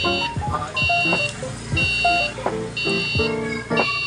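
An Arduino buzzer in a light sensor project beeps in repeated short tones, steady and fairly close, alongside clicks and faint clattering noises.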